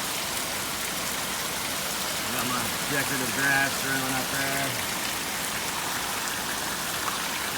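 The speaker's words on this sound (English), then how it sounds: "It's pouring down rain." Heavy rain pours down steadily outdoors, a constant hiss close around, while someone talks over it.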